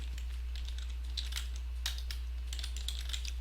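Keystrokes on a computer keyboard come in quick irregular bursts of soft clicks, fairly quiet over a low steady electrical hum, with no voices.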